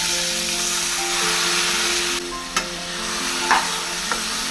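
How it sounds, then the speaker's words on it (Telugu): Crushed cucumber chutney (dosakaya roti pachadi) is stirred in a hot pan after turmeric is added, giving a steady sizzling hiss over a low hum, with a few brief scraping clicks and no talking. "ఇప్పుడు దంచి పెట్టుకున్న దోసకాయ పచ్చడిని ఇందులో వేసేద్దాం"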